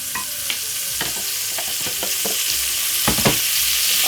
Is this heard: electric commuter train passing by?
no